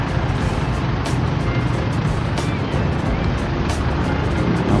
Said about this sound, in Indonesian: Dan di belakangnya juga bus Harapan Jaya.